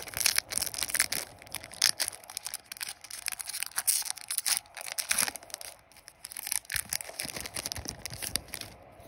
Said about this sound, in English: Let's open this with my hand.